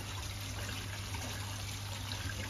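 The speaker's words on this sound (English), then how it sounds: "You can hear all the water now going out the waste valve." Water rushing steadily out through the waste valve of a koi pond, a constant close trickling and gurgling flow with no pauses and no voices.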